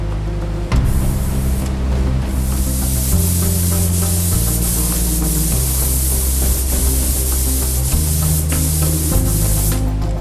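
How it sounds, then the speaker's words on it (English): A technician in a paint room sprays epoxy paint onto small space shuttle solid rocket booster parts, a loud continuous hiss of spray with short breaks, over a steady low machinery hum. "this technician is spraying an epoxy paint to some of the smallest pieces"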